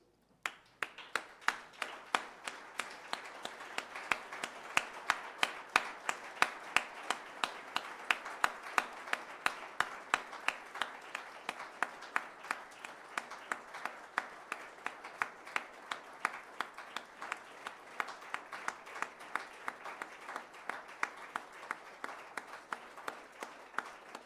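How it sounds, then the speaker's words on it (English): A crowd in a stadium applauds at a memorial service with sustained, dense clapping that carries on for the whole stretch, steady and moderately distant, with little talk. "I think I'm going to ask everyone to give a round of applause"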